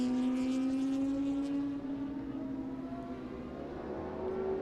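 Ducati 916 superbikes racing into a corner, a loud high-pitched engine whine holding a sustained tone, dipping and then climbing again as the bikes pass, with no talk.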